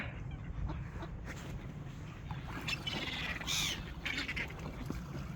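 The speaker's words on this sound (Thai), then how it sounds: "ทั้งนกทั้งเป็ดไม่กลัวกันเลยค่ะ" Ducks quack and other birds, including gulls, call near a bridge at an outdoor nature spot crowded with birds, short cries scattered over a steady low background rumble.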